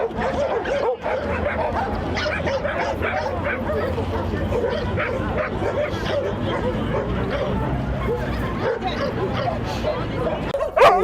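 West Siberian Laika hunting dogs barking, yipping and whimpering at a regional hunting-dog show in Yakutia, a continuous dense mix of many dogs near and far over steady crowd chatter.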